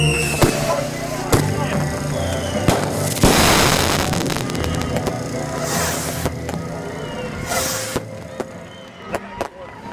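Firework cakes go off in a rapid string of bangs, crackles and bursting pops across the whole stretch, with a dense crackling barrage in the middle and scattered sharp reports, while people talk faintly now and then.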